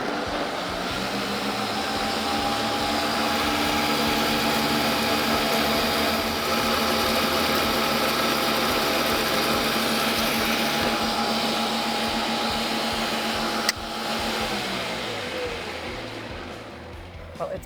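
A countertop blender purées a sauce with oil, its motor running loud and steady for nearly the whole stretch with a constant whirring drone, then winding down near the end.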